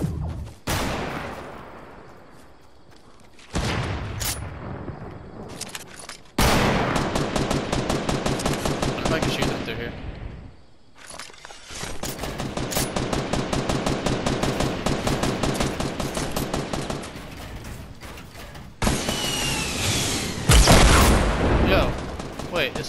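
Rocket launcher blasts and rapid gunfire in a Fortnite match, dense loud bursts of shots and booms filling most of the stretch with short gaps, while players talk over the action.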